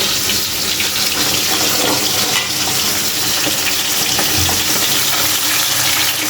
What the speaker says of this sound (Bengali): এটা যে মাছ ভাজা হচ্ছে, তো যে মরিচের গুঁড়ি দিয়ে দিলাম।